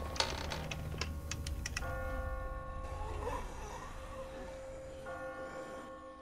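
Bells ringing in The Walking Dead game: clacking taps up front give way to sustained, resonant bell tones that hang and ring out at moderate volume.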